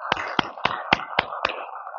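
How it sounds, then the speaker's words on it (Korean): An audience claps in unison at a Buddhist dharma talk during a temple's Buddha's Enlightenment Day service: six sharp, evenly spaced claps in a quick steady rhythm, close and clear, with no talking. "우리 박수 한번 보내주시죠."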